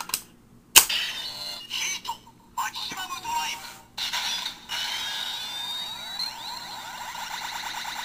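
A Kamen Rider Double DX Double Driver toy belt plays its electronic Heat maximum drive effect: a sharp click, then choppy bursts of synthesized noise and a rising whine, fairly close and loud.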